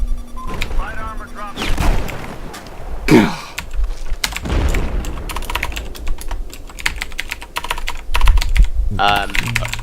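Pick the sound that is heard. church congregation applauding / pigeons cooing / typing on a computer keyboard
typing on a computer keyboard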